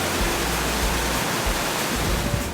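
Continuous loud roar of mountain waterfalls near Badrinath, a dense wash of falling water with deep low rumble, steady from start to end and no talking.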